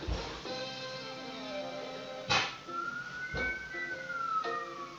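An ambulance siren wails on a street, a steady tone with a slow upward then downward glide, moderately distant and not very loud, with a few brief bursts of noise in between.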